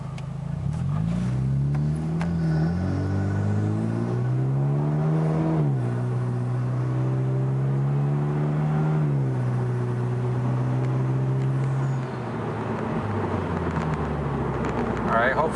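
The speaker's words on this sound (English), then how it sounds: "I'm going to try to do a little bit of a heavier acceleration now if traffic opens up a little bit." Cabin sound of a 2013 Hyundai Genesis Coupe 2.0T with a Magnaflow cat-back exhaust under heavier acceleration, the engine note climbing steadily through the gears with brief dips at shifts, loud and continuous for the whole stretch.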